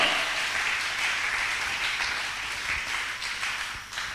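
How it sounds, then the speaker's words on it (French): A church worship congregation applauds in a dense, sustained wash of clapping from many hands, steady and fairly loud throughout before easing slightly at the end. "On acclame très fort et on continue."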